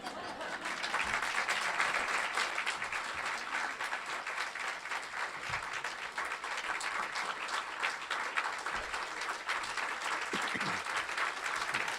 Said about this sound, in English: You better save your applause until I'm done.